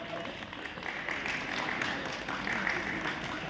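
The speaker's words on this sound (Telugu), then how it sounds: "గట్టిగా చప్పట్లతో మనందరం" Audience applause for guests at a birthday event, a dense, fairly faint patter of clapping that holds steady throughout.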